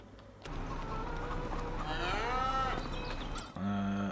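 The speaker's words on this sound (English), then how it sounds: "Angus cows." Angus cattle in the Farming Simulator 25 video game give a single drawn-out moo over a steady ambient game background, followed by a brief low tone near the end.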